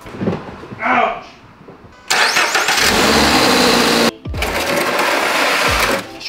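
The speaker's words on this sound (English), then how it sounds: "I'm firing my GR86." Toyota GR86 engine cranks and fires into a loud, steady idle at close range, briefly cutting out before revving back up, with people talking nearby at the start.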